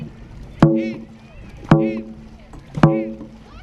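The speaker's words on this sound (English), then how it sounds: "when we're paddling, you need nice, long, deep strokes" A women's dragon boat crew paddles through water during a practice run, with three loud, evenly spaced strokes and a brief voiced call landing on each one.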